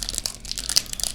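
A Select 2020 Footy Stars trading card foil pack being torn and crinkled open by hand, a quick close-up run of crisp crackling rustles with no talk.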